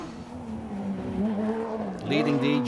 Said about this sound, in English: Let's enjoy a ride with Maas and co-driver Chris de Bizet.